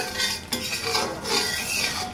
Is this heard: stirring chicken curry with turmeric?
yes